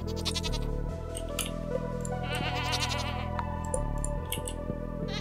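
Stardew Valley goats on the farm give several wavering bleats in succession, clear and close, over the game's steady background music with no talking.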